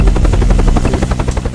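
A rescue helicopter flies on a coastal patrol in Britain, its rotor thudding in a fast, loud, steady chop close by.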